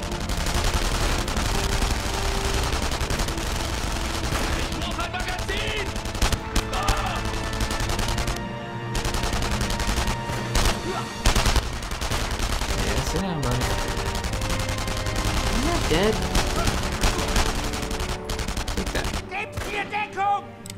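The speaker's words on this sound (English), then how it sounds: "There's Les Resistance in the house shooting at Germans." Sustained gunfire from resistance fighters shooting at German soldiers in the Enemy Front video game, a dense, loud barrage of rapid shots and bursts that runs almost without pause, with brief lulls and a few faint voices.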